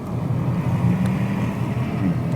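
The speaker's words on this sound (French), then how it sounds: "Petit run de l'Alpine, départ lancé." Alpine car accelerating on a flying-start run down an airstrip, a continuous low engine roar heard from a distance, steady and loud throughout with no speech.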